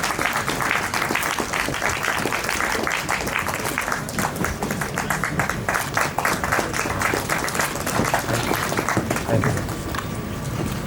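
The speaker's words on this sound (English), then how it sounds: "A round of applause for him," Audience applause at a panel event honoring doctors, a steady, moderately loud patter of many hands clapping continuously and fading slightly near the end.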